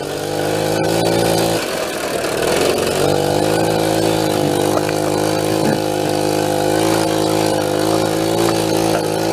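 A mini Harley motorcycle, stored for over 20 years in a basement, revs a small buzzing engine while riding through sand, loud and close. The steady, droning tone bogs briefly, then rises and wavers as it labors.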